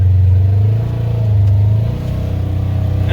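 Polaris General 1000 side-by-side in four-wheel drive, its engine droning steadily with a low, rising rev as it accelerates, close and loud with no talking.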